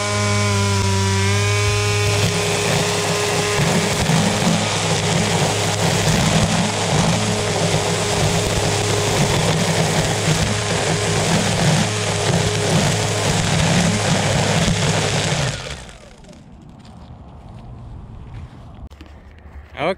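An electric weed whacker fitted with twisted spiral trimmer line cuts a strip of grass, a loud steady whirring and buzzing roar nearby that runs for about fifteen seconds, then cuts off and leaves quiet outdoor background.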